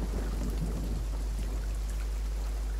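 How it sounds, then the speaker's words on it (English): A storm in the Sea of Thieves video game: a loud, continuous rumble of thunder and heavy rain roars without a break, with no talk. "Lightning strike."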